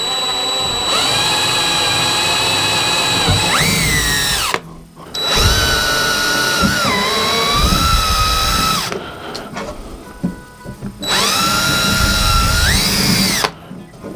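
A power drill whines loudly in three long bursts, its pitch sagging as it bites into a kayak crate lid to mount pad eyes, with short pauses between runs.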